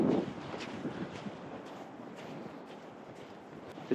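Ocean waves and gusting wind on the Iceland coast, a broad rough rumble of wind buffeting the microphone over a low, continuous surf wash, fairly faint, with a brief knock near the end.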